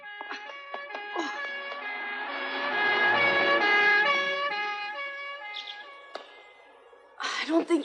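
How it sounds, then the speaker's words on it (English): A police patrol car siren wails in long rising and falling tones, loud and close, swelling midway as it nears and fading toward the end, with a brief burst of other noise at the close. "the patrol car."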